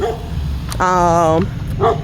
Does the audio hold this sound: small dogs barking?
yes